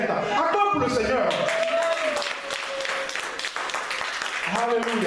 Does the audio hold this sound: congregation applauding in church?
yes